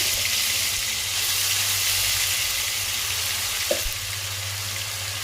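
Whole spices and ginger-garlic paste fry in hot oil for chicken biryani, with a loud, constant sizzle, a low hum underneath and one brief clink of stirring.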